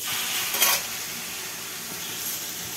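Grated raw mango dropped into a hot mustard seed tempering for mango jam, a brief louder hiss as it hits the oil, then a quiet steady sizzle, close and alone.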